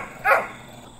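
One short dog bark, fairly quiet and alone, over a soft background hush.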